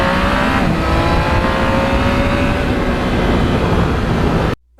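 A Yamaha MT-09 motorcycle engine drones loud and steady while riding on the open road, with a rising tone and wind rush before cutting off abruptly near the end.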